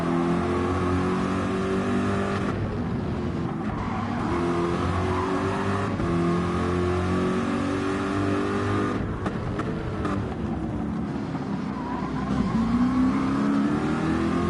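Race car engines in a Gr3 racing video game at Laguna Seca roar continuously, with steady revving and pitch sweeps as the cars shift and accelerate through the lap, loud and unbroken throughout.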